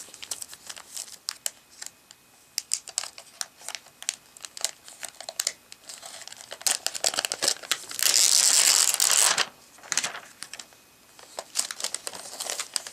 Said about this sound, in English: Let's take this plastic off.